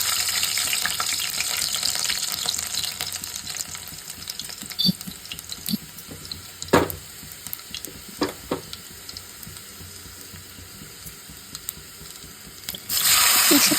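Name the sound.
garlic frying in hot oil with mustard seeds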